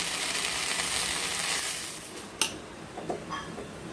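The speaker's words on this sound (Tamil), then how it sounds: "நல்லெண்ணெய் குத்தி கடுகு போட்டிருக்கோம்" Mustard seeds sizzling in hot sesame oil in a pan, a steady loud hiss that fades toward the end, followed by a few faint utensil clinks.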